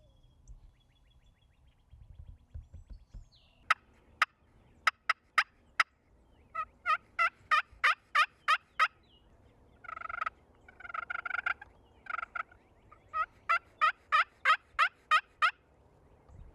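Wild turkeys gobble in Texas, with rapid rattling bursts repeated in quick runs and a few louder gobbles answering one another across open ground. The calls sound moderately distant and clear, and no voices are heard.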